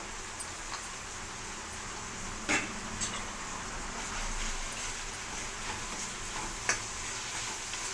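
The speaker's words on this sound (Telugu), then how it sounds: "ఇప్పుడు టమాటాలు వేసుకుంటాను." Tomatoes and chillies frying in a pan for a red chilli chutney, a soft steady sizzle with occasional stirring clinks and scrapes, no talking.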